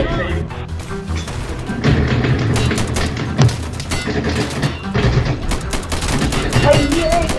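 Gunfire in the video game Insurgency, with rapid bursts and single shots crackling in dense, overlapping volleys at close and mid range, steady and loud throughout, while people talk excitedly over it.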